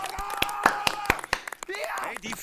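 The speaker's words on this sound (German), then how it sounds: "Großer Applaus für Claudia" Applause for fishing trainer Claudia at a live show: a short burst of rhythmic hand claps and cheering, with a voice talking over the clapping.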